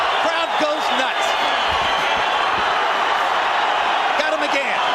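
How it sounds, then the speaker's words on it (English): Arena crowd at a heavyweight boxing bout, Vitaly Klitschko against Kirk Johnson, roars in a dense, sustained wall of cheering that swells as blows land, with a commentator's voice riding over it. "chasing Johnson into the corner and pounding with the right hand. Crowd goes nuts."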